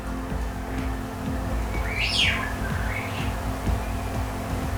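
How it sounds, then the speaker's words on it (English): A single sweeping bird chirp rises and falls over a low, steady background hum, with a fainter call following shortly after. "a couple of birds outside. I'm not really sure what they are, but they're certainly noisy."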